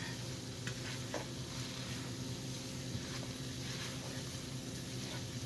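Taco casserole with cauliflower rice cooks and sizzles steadily in a pan while a utensil stirs and scrapes through it, a constant close frying hiss with occasional soft clinks and no talking.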